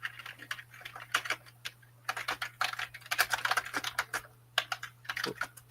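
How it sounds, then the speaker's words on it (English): Rapid, clattery typing on a loud keyboard, bursts of sharp key clicks with brief pauses, close and crisp. "Man, your keyboard is awesome. Yeah, it's loud."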